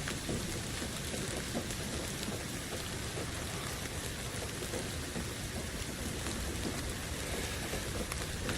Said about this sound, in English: Don't you love rain?